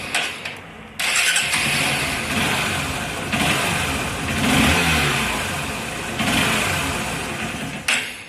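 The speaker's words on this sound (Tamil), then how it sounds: "இப்போ இந்த வண்டியை ஸ்டார்ட் பண்ணுற பாருங்கள்" After a brief quiet start, a vehicle engine fires up under carburetor repair and settles into a loud, rough idle, with a few rising revs swelling and falling back, heard close with no talking.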